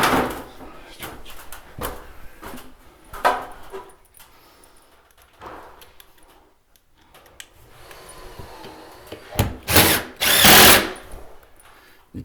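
A power driver sets pocket screws into a closet board in short, loud whirring bursts separated by pauses, with light handling clatter between runs.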